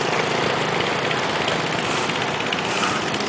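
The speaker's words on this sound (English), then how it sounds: "Kids on the motorbikes." Motorbike engines running on a road through Mekong Delta rice fields, a continuous buzzing drone that stays steady and fairly loud throughout, with no voices.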